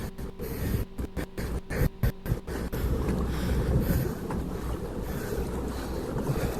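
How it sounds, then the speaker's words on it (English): Steady wind rushing over open water from a boat out fishing, a continuous broadband roar buffeting the microphone with low gusts, broken early by a few sharp dropouts, no talk. "Oh, wind stopped."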